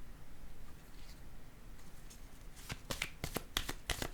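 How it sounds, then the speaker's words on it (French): A card drawn from a deck, heard as a quiet stretch followed by a quick flurry of crisp close card flicks and riffles, fairly soft, with no talking. "Je vais piger une autre carte."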